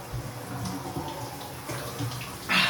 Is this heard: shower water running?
yes